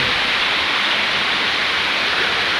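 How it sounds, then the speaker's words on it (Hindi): Very heavy downpour with floodwater around a bridge underpass in Baruth, Baghpat, a dense steady roar of rain and rushing water filling the whole clip with no letup. "वह ठाड़ी बारिश है भाई जबरदस्त, इतना पानी पड़ रहा"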